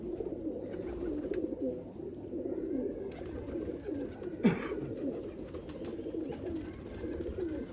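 Teddy pigeons keep up a dense, low rolling coo close by, with a brief sharp flutter or click partway through and no talking.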